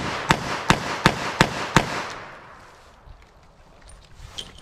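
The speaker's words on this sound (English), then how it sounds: "let me do some practical shooting, just get a quick sight picture and pop some off" Five sharp gunshots from a Taurus 856 revolver with a 3-inch barrel, fired in quick, evenly spaced succession, loud and close, each ringing out briefly before trailing into outdoor quiet.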